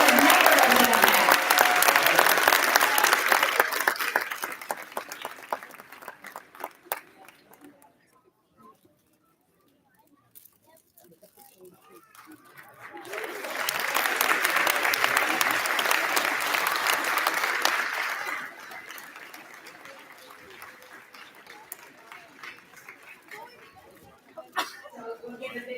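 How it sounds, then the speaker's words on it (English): Two bursts of audience applause at a school arts celebration: loud clapping that fades to near silence, then a second strong round that tapers off, with faint chatter in the gaps. "Another round of applause"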